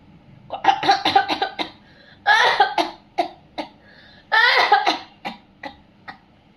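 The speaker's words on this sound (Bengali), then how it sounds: "দেখছেন আমার কত কাশি হচ্ছে" A series of harsh coughs in bursts, several rapid coughs close together, then a pause and another bout, with a few single coughs trailing off; close and fairly loud.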